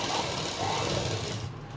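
Sewing machine stitching the waistband of a pair of pants, a steady close mechanical whir running continuously and fading out at the end.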